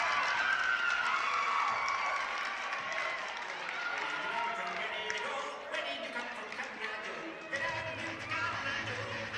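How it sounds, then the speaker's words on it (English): Fans applauding and cheering in the stands at a gymnastics meet between Southern Utah and Utah State in Denver, a steady crowd wash with voices mixed in throughout. "We're excited to have some fans in the crowd today. You'll hear that in the background."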